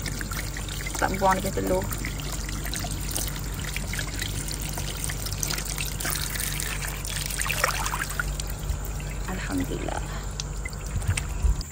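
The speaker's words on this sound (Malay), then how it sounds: "Rozette nak bilas bersih dah." Water pours and trickles steadily while mackerel are rinsed clean in a kitchen, a continuous splashing stream with a voice speaking briefly over it.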